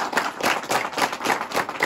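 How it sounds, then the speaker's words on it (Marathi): Clapping from a crowd gathered in Shrivardhan for a welcome celebration, dense and steady for a couple of seconds with faint rhythmic pulses and no talk over it. "या एकदा जोरदार टाळ्या त्यांच्यासाठी दोघांसाठी"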